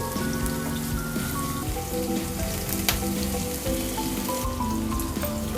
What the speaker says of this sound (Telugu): ఫ్రెష్గా గ్రైండ్ చేసి పెట్టుకున్న అల్లం వెల్లిపాయ పేస్ట్ వన్ టేబుల్ స్పూను పచ్చివాసన పోయే వరకు ఫ్రై చేసుకోవాలి